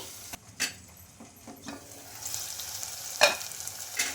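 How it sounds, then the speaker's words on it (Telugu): Small cut tomato pieces fry in a pan for urad dal poori, a steady close sizzle with occasional stirring scrapes and a brief utensil clink, no voice. "ఇలా చిన్నగా కట్ చేసి పెట్టుకున్న టమాటా ముక్కలు కూడా వేసుకోవాలండి ఇందులోకి ఇంకా ఇవన్నీ కొంచెం బాగా ఫ్రై అవ్వాలి"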